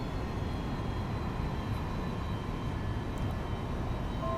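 An airplane engine drones in the X-Plane 11 flight simulator, a continuous, even hum at moderate level with no speech over it.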